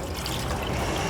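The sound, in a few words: water poured into a can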